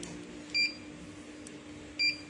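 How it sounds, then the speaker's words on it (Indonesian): An electronic buzzer beeps twice on a timer controller, two short high tones about a second and a half apart over a steady low hum. "Buzzer bisa di-on-kan, di-off-kan."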